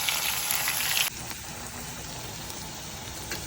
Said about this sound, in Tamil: நசுக்கி வச்ச பூண்டு கொஞ்சம் இதானதுக்கப்புறம் கட் பண்ணி வச்ச வெங்காயத்தையும் போட்டுட்டு கொஞ்சம்